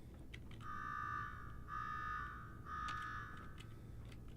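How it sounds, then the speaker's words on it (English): An alarm blares in Fallout 4, three long electronic buzzing tones of about a second each separated by short gaps, moderately loud over a low background rumble with no speech. "Now go shut off that damn alarm."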